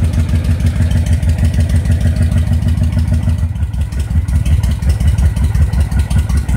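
A Honda VTX 1300 motorcycle engine idling, a steady low throbbing pulse with an even rhythm throughout, close and loud, with no talking.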